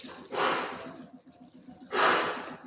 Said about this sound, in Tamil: அதுக்கு தேவையான தண்ணி ஊற்றிக்கலாம்.